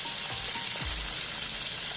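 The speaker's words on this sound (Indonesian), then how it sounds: "Nah teman-teman, kita goreng dulu ikannya tuh." Fish sizzles in hot frying oil with a steady, bright crackle that stays close and constant throughout, alone without speech.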